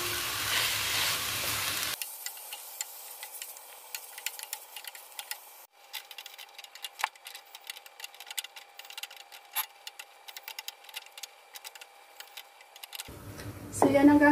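Beef frying in a pan until golden brown, a steady close sizzle with fine crackling pops and occasional ticks, after a short stretch of louder background at the start and before another loud burst at the end.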